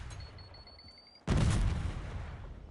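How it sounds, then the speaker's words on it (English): A flashbang grenade goes off in a video game, one sudden loud blast that follows a quiet stretch of faint beeping, then a rushing, ringing tail that fades slowly. "Throwing flashbang."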